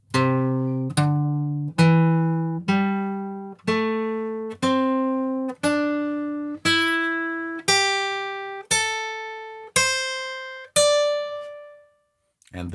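A guitar plays an ascending scale, one plucked note at a time at an even, unhurried pace, each note ringing and fading before the next.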